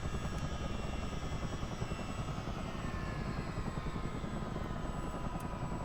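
A CH-47 Chinook helicopter's engines drone steadily in a flight simulator, a dense, continuous rotor and turbine roar with a thin high whine running through it, fairly quiet and unbroken.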